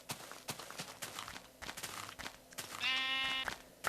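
A Minecraft sheep bleats once, a short wavering baa near the end, after a run of soft blocky footsteps crunching across the ground; close and fairly quiet, with no talking.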